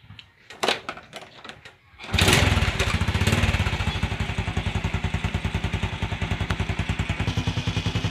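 A Honda Wave 110 motorcycle engine cranks with a few clattering knocks, then catches and settles into a loud, steady close-up idle with an even, rapid pulsing chug.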